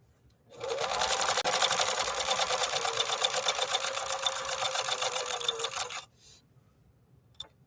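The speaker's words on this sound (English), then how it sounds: "So this is going to be stitch number 3 that we're going to be sewing next." A 1957 Phoenix 283F sewing machine, German-engineered by Adler, runs a stitch in one continuous rapid mechanical whir for about five and a half seconds, close and fairly loud, then stops with a faint click.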